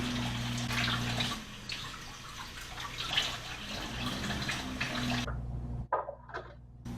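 Tap water runs steadily over a stiff piece of brined salmon to rinse off the salt and brine, a close continuous gush that breaks into uneven splashes and then stops near the end.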